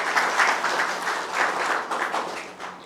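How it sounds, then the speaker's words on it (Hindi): An audience claps loudly for the cast and crew of a Hindi stage play, Sudama Charit, with dense, continuous applause filling the hall for a few seconds before easing off. "एक बार पूरी टीम के लिए जोरदार तालियां"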